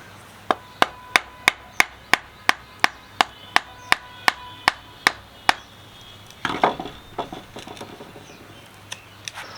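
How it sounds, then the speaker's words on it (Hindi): Someone chops V-shaped notches into a wooden log for a bushcraft Swedish rocket torch: about fourteen sharp, evenly spaced blows ring out close by, then give way to loose rustling and handling noise. "इनमें कट लगा लेंगे, वी कट लगाना पड़ेगा।"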